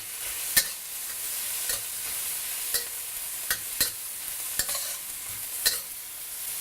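Pineapple fried rice with white pepper and seasoning being stirred in a pan, a steady soft sizzle under repeated sharp scrapes and clacks of the utensil, close and without talk.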